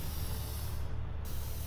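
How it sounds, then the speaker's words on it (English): Steady broadband hiss of an aerosol spray paint can held down in one continuous burst, with a brief pause near the middle. It sounds close and even, with no voices. "We'll make sure to spray paint these bits as well."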